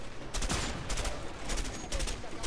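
Bursts of rapid gunfire in the co-op video game A Way Out, several loud sharp volleys in quick succession, close, with players talking between them.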